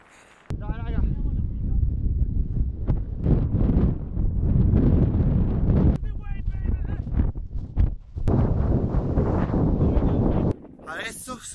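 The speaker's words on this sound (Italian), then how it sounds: "Ragazzi, c'è troppo vento." Strong wind at the summit of Mount Etna roars and buffets the microphone in loud, rough gusts, with people talking intermittently beneath it.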